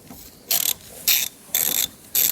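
A socket wrench ratchets on the horn bolt of a GMC Terrain in four short, evenly spaced bursts of rapid clicking, close and crisp, with quiet pauses between strokes.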